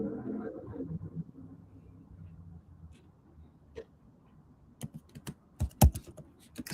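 Short burst of computer keyboard typing, a handful of close, sharp clicky keystrokes near the end after quieter low background noise.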